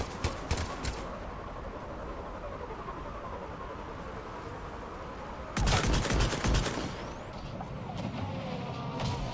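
Assault rifle fire in Mass Effect Legendary Edition, a few shots at the start and then a dense rapid burst partway through, set against a steady, rumbling game ambience.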